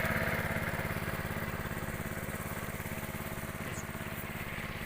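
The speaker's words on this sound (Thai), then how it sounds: "ตัวเครื่องสูบน้ำนะครับ เครื่องยนต์สูบน้ำนะครับผม" A small engine-driven water pump runs steadily beside a fish pond, its rapid chugging rhythm constant and close throughout with no voices.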